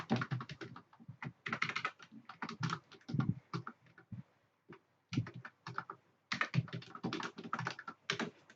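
Rapid typing on a computer keyboard, close and fairly quiet, comes in quick bursts of key clacks separated by short pauses, with no one speaking.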